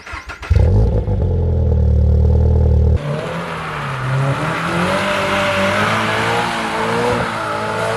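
Engine of a second-generation Subaru BRZ / Toyota GR86 revving loudly close by, a deep throbbing tone that cuts off abruptly and gives way to a rougher, wavering engine note rising and falling.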